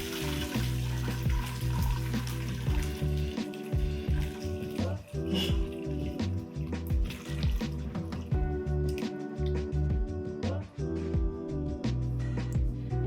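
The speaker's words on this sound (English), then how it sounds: "take the broth and veggies left in the pressure cooker and strain the vegetables out so we're just left with the broth in the pot" Broth and cooked vegetables poured from a pressure cooker through a strainer into a pot for Cuban soup, a steady splashing liquid pour with clinks and rattles of cookware running throughout, under a constant kitchen hum.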